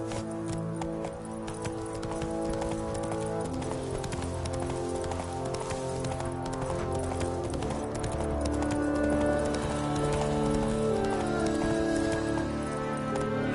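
Roach the horse gallops in The Witcher 3, a steady, rapid clip-clop of hooves running throughout at close range over a bed of game music.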